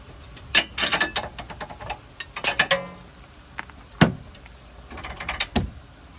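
Wrench and 13/16 socket working the top suspension knuckle bolts on the rear of a 2016–2023 Chevy Malibu: scattered sharp metallic clicks, ratcheting and tool clanks in bursts, close and moderately loud, with no talking.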